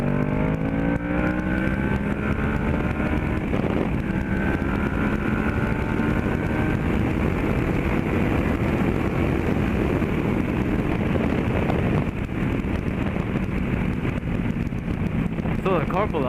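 A 2011 Kawasaki Ninja 650R motorcycle accelerates hard, its engine note rising in repeated upward sweeps through the gears under heavy, constant wind roar at the rider's microphone.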